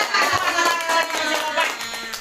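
A group of women clap their hands together during a short ice-breaking activity, quick rhythmic claps mixed with voices, fairly close and brief.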